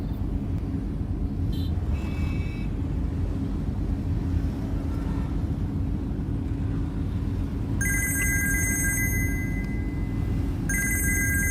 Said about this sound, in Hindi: अब मम्मी फोन कर रही हैं।